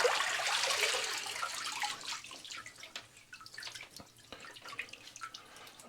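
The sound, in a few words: water dripping from washed items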